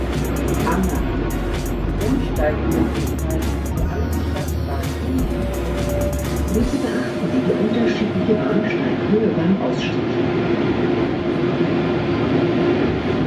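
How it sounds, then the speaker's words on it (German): Riding inside a line 3 tram through central Erfurt, a continuous low rumble of wheels and motor hums beneath the cabin, with light rattles and creaks along the way and a steady, close, enveloping drone. "Wir steigen jetzt in eine Straßenbahn der Linie 3 ein"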